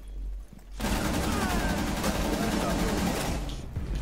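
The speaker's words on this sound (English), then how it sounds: "Oh, the last shot got him." Sustained automatic gunfire rattles loudly and densely for about three seconds in Rainbow Six Siege, close and continuous, with a voice speaking just before it starts.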